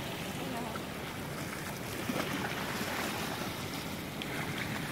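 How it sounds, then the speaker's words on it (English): Ocean surf rolls onto a beach at Cape Coast, Ghana, a loud, steady wash of waves mixed with wind noise buffeting the microphone. "the waves are getting much bigger now"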